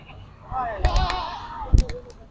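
Goats at a rural goat market in Lehragaga, Punjab. A wavering, vibrato-like bleat rises near the middle, with a few sharp knocks and bumps around it.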